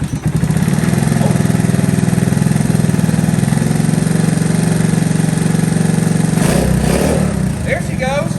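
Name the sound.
1982 Honda ATC110 three-wheeler engine starting and running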